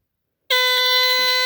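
A Dicon 200 smoke detector alarm sounds after a moment of silence, sending out one continuous, loud, piercing electronic tone that holds steady to the end.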